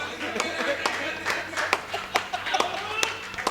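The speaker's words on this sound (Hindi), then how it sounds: "अरे जोरदार तालियां होनी चाहिए।" Audience at an evening show gives scattered hand clapping, sharp irregular claps mixed with light applause, moderately near, under ongoing talk.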